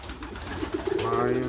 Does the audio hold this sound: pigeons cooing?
yes